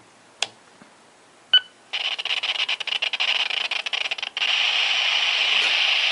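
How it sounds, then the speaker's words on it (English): A Sporty's SP-200 handheld NAV/COM radio with its squelch set low: two sharp clicks, then choppy bursts of static that settle into a continuous loud hiss. "You can hear the static right now because the squelch is kind of low."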